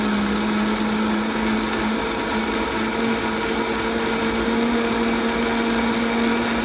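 Blender grinding hot vegan soup at high speed, a loud, constant motorized whir with a steady hum throughout, alone with no talking.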